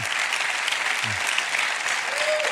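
Steady, roaring crowd applause and cheering after a Super Bowl win, a continuous wash of clapping with faint voices briefly surfacing underneath.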